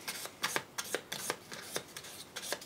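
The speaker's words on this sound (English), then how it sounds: "then I go 1500 grit paper, and then it starts to look shiny" A guitar fret end is sanded with 1500 grit sandpaper in a series of short, close, raspy rubbing strokes in an uneven rhythm, fairly quiet and with no talking.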